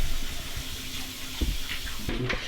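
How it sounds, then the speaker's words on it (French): A bathroom tap runs steadily while someone washes their hands, a continuous broadband rush of water with a few small splashes and clunks near the end. "On va se laver les mains. Allez, go, lave-toi les mains."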